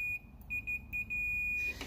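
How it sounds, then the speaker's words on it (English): A multimeter's continuity tester gives a high, steady electronic beep when its test leads touch together, used to check fuses on a Toyota Corolla. The tone sounds in several short bursts, then holds as one long clear beep. "Most multimeters are going to give you that beep"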